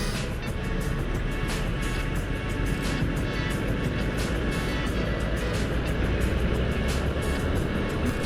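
A Honda Vario 125 scooter pulls away from a green light on a morning city ride in Surabaya, its engine droning steadily under loud, constant wind and traffic roar throughout.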